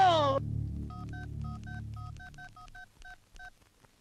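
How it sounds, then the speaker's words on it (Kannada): A telephone dialed in an Indian Kannada action film: a clear series of about fifteen evenly paced DTMF keypad tones. A brief voice or tone opens it, and a low hum runs beneath. "ಒತ್ರಲ್ಲ ಯಾರಾದ್ರೂ ಬಾಂಬೆ ಕರೀಮನಿಗೆ ಫೋನ್ ಒತ್ರಲ್ಲ"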